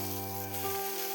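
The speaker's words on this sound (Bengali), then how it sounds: "এবারে পালং শাকটা দিয়ে দেবো," Spinach hitting a hot pan for a Bengali palong shak fry gives a steady, close sizzling hiss with a faint clatter, brief and alone.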